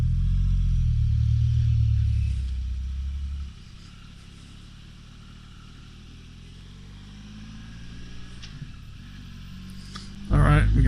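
A 2023 Triumph Rocket 3 GT motorcycle engine rumbles loudly at first, then settles to a low steady drone while a rider talks over it, and rises again to a louder roar near the end.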